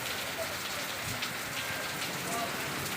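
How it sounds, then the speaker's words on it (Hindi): Heavy monsoon rain pours steadily onto flooded streets in a market town, a dense, constant hiss of water with no breaks, fairly loud and close throughout. "गावड़ा मंडी में बारिश, चारों तरफ पानी पानी, सड़कें हुई जलमग्न"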